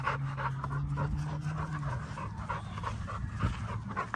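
Big dogs panting heavily and close by, a steady rapid breathing rhythm running through the whole stretch, with a sustained low tonal hum underneath and no talking.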